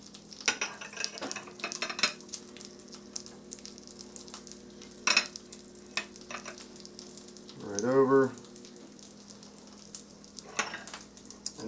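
Mushrooms, onions and garlic tipped onto a hot griddle for an Italian venison sub give a low sizzle, with a short, louder burst of frying near the end and scattered utensil clicks throughout.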